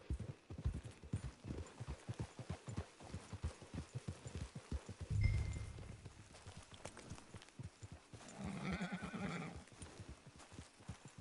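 Horse hooves clip-clop in a steady, fairly quick rhythm at moderate distance in Red Dead Redemption 2 Online, with a brief whinny near the end; quiet overall, no talking.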